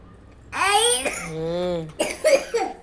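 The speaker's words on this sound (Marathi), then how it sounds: "खोकला लागला बाळाला" A young child coughs a few times close by, with throaty, voiced bursts and a short pause between them.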